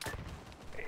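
Autocannon fire in the Arma video game: a short run of rapid, faint, distant shots in quick succession.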